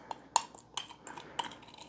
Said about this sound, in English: Let's see if I can get a tablespoon out of here.